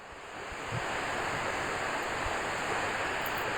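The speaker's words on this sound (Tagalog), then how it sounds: "bumabagsak na tubig galing sa itaas" A broad, steady roar of falling water from Alalum Falls in Sumilao, Bukidnon, constant and full, heard from nearby, with no voices.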